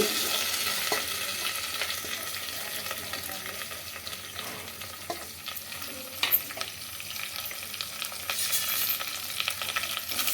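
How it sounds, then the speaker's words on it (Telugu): Steady oil sizzle of onion, carrot and radish frying in a pan, with occasional stirring clinks and scrapes throughout, close and moderately loud. "ఇవన్నీ వేసుకొని కొద్దిగా ఫ్రై చేసుకోవాలండి"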